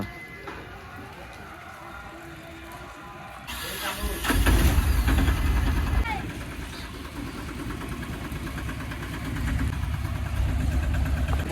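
A goods vehicle's engine starts and idles, a low steady rumble that swells after a few seconds and continues, with people talking nearby over it.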